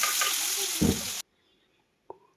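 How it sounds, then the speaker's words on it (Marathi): Chopped onion dropped into hot oil already crackling with cumin and mustard seeds gives a loud, broadband sizzle that swells at the moment it hits, then cuts off abruptly, followed by silence and one short clink. "तेलही गरम झालेले आणि जिरी आणि मोहरी छान तडतडली आहे आता त्याच्यामध्ये ना मी हा वाटलेला फोडणीसाठी कांदा भा चिरला आहे तो आता कांदा घालून घेते"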